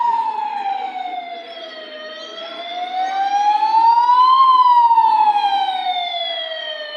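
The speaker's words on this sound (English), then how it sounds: "there's got to be a siren or something going on" A wailing siren rises and falls in slow, sweeping tones, steady and fairly loud with no other sounds.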